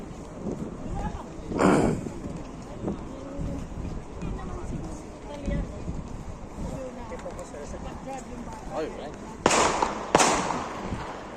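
Firecrackers go off near a seaside spot in a few sharp, loud bursts, one early and a pair close together near the end, over steady wind and scattered voices.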